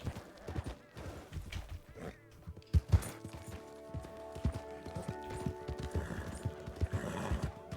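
Clopping hooves in a quick uneven rhythm with a horse's whinny in Red Dead Redemption 2, game-style sound effects layered over a low background.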